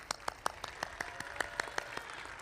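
Graduation ceremony audience for Bryant & Stratton College in Wisconsin, giving faint, sparse applause with a few distinct nearby claps standing out over a soft, distant wash of hands.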